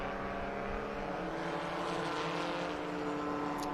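Classic Spridget race cars parading past on a road course at a vintage sports car race, a steady, loud blend of engine drone and harmonic whine that holds throughout with no talking.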